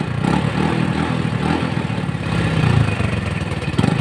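Motorcycle engine revved by opening the throttle while the headlight and flasher are tested on a battery with an added capacitor, a steady loud mid-pitched drone swelling a little partway through with no talking.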